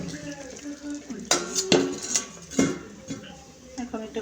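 A cooking pot of small fish on a stove being covered with its lid, giving a few sharp metallic clanks and clatters close by over a low background hum, with voices heard around them.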